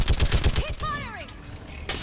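Gunfire in the video game Mass Effect 3 Legendary Edition: rapid rhythmic bursts of shots in the first second, followed by sweeping synthetic whooshes and tones and a short final burst.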